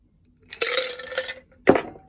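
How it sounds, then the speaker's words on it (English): Ice cubes dropped into a Negroni cocktail glass, giving two separate bright clinking bursts about a second apart, close and fairly loud, with no talking. "And we will finish that off with 2 or 3 ice cubes"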